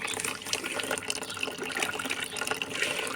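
A container fills with water from a tap, a continuous gushing and gurgling pour heard up close and fairly steady throughout, with no speech.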